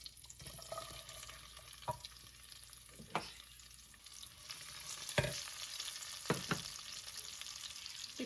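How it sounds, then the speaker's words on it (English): Onion and garlic sauté gently in oil, a soft, low sizzle broken by a few sharp spoon scrapes and knocks against the pan. "وغادي نخلطو كلشي حتى هما غادي نعطيوهم واحد التشحيره خفيفه في الزيت"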